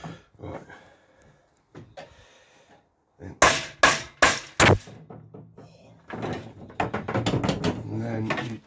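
Metal knife sections being tapped out of an old Gleaner combine knife with a drill bit, a cluster of four or five sharp, loud metallic knocks, followed by someone speaking.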